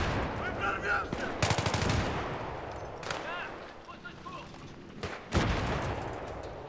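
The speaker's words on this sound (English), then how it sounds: "There's so many explosions going on." Battlefield 3 combat with rapid bursts of automatic gunfire and heavy explosion-like blasts, dense and loud over a constant rumbling din, with faint voices underneath.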